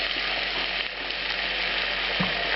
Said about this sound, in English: Now, into this, I'm going to add the tomato sauce.